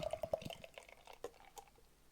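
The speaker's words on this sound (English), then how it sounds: "I'm going to do quite an aggressive pour with this one." Porter beer poured aggressively from a freshly opened can into a glass, with a quick run of close drips and splashes at the start that settle into softer liquid trickles and fizz.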